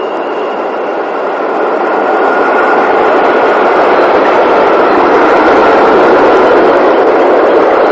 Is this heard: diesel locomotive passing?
yes